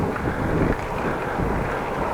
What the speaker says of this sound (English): A little windy, makes it more bearable, but still warm.